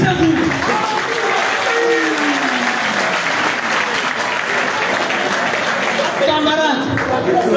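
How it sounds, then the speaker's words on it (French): Loud, dense applause from a crowd at a teachers' union general assembly, sustained and even for several seconds, swelling again near the end. "Applaudissez-vous."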